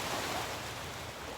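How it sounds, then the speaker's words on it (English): Gentle ocean waves at a beach on a calm day, a soft continuous wash of surf with a little wind noise, steady and fairly close. "I love how quiet the waves are today."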